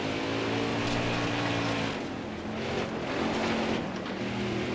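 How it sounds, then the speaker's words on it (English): Race car engine in NASCAR Heat 4, held at a steady loud drone with harmonic bands that dip and swell as the throttle is feathered through a corner, no talking. "you can hear we're having to feather the throttle to get the car to turn through the corner"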